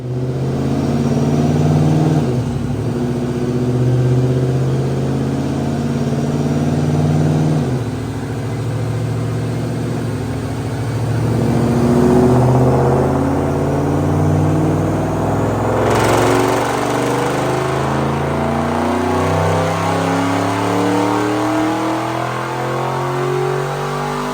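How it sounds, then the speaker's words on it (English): A supercharged 2006 Ford Mustang GT 3-valve V8 with an automatic, a Paxton Novi 2200 supercharger and Detroit rocker camshafts makes a loud, close, sustained engine roar as it climbs steadily in pitch during a dyno pull, with no voices. "Check out this dyno pull."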